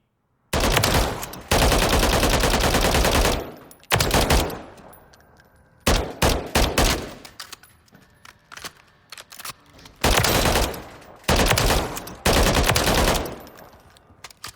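An H&K G36K rifle in Call of Duty: Modern Warfare III fires loud full-auto bursts of several seconds, broken by short pauses and a few brief clacks, with no voices.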